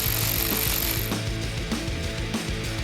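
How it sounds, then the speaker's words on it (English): A hand ratchet clicks steadily through several rapid turns while loosening a nut on a 2022-2026 Toyota, making a close, crisp mechanical ratcheting with no talking. "we're going to remove this nut so we can install our ground terminal for our control unit"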